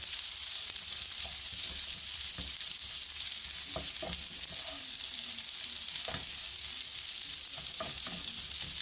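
Chicken fried rice sizzles steadily in an oiled skillet, with a constant frying hiss and scattered scrapes and clicks as it is stirred around the pan, close and without voices.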